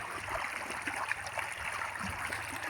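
Water flows from a pipe used to fill containers, making a faint, continuous rushing and trickling wash with no clear pauses.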